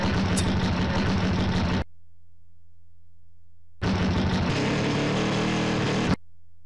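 A racing motorbike engine in GTA San Andreas roars in two loud bursts separated by a near-silent gap, each a harsh, revving drone cutting off abruptly, with no talk.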